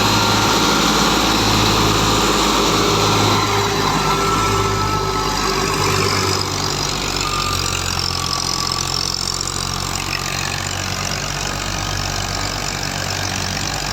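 A Fiat 480 tractor engine running steadily while driving a New Holland thresher, a loud continuous low diesel drone with rhythmic pulsing and mechanical whine, close and unbroken throughout.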